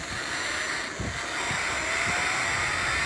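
A whirring electronic engine effect from a diecast metal Ford Raptor pull-back toy car, a continuous revving drone with a rising whine and a few soft thumps.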